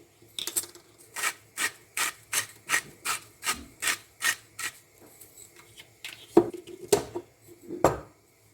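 A salt grinder twisted over layered vegetables in a home kitchen, giving a run of about twelve evenly spaced rasping grinds, close and fairly loud, that turn into a few sharper, irregular scrapes near the end.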